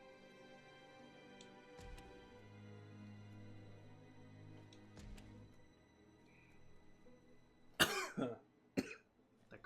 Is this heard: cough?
yes